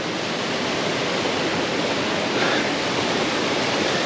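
River rapids at a hidden waterfall in Jamaica, a loud, continuous, dense rushing roar of water that stays steady throughout, with no voices.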